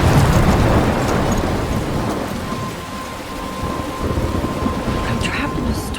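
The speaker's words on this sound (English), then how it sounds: "I'm trapped in a storm?" Thunderstorm from the video game Life Is Strange, with steady heavy rain hissing throughout and a deep rumble of thunder rolling loudly at the start, then easing to a continuous downpour.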